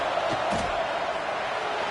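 A stadium crowd in the College Football 26 video game roars steadily after a late go-ahead field goal, a dense, continuous wash of cheering noise that holds at an even, loud level throughout.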